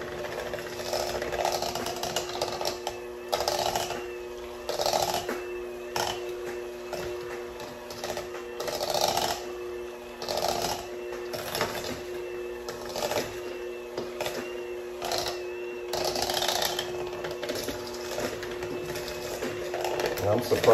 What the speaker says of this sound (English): Then I'll get a better tool and finish it up with some nice grinding.